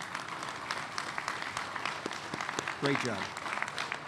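An outdoor audience at a rail facility groundbreaking event claps steadily in scattered, moderately loud patters. A brief spoken remark cuts through near the end.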